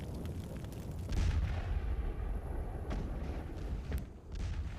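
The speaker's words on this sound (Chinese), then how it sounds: "随即枪声大作" Heavy gunfire and artillery from the Japanese attack at the Lugou (Marco Polo) Bridge at night: a loud, dense, continuous roar of booming blasts and rattling shots, with sharp cracks standing out through the barrage.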